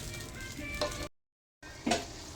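Marinated asado meat stirred with tomato sauce in a sizzling pan, a steady close-up frying crackle with scraping stirs, broken by a short silent gap before it picks up again.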